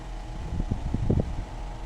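A small minivan fan motor whirs steadily with a low hum, with soft bumps and fluttering air noise up close.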